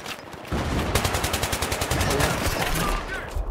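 Rapid automatic gunfire in Battlefield's Rush mode on the Grand Bazaar map, a steady rattling burst of close shots running nearly the whole stretch over a busy battle backdrop.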